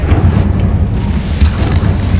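Incendio fire spell cast in Hogwarts Legacy, a loud low rumbling whoosh of flame with a brief crackling flare, heard alone without talking.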